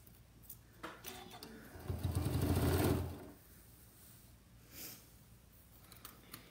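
A sewing machine runs one short burst of stitching, about a second long, then stops, leaving quiet handling sounds.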